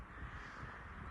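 Crows caw from the treetops in storm-damaged woodland, steady harsh calls over a constant outdoor wash, fairly distant and alone without voices.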